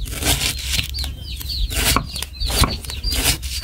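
A chicken clucks and flaps its wings close by, with bursts of wing beats and short squawks over steady outdoor background noise in a Mekong Delta kitchen setting.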